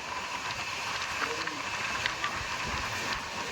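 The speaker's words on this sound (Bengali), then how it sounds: "এখন ট্রেনেই চলছি" Steady rumbling hiss of a moving train interior with faint rattles, a continuous, moderately quiet background, no clear speech.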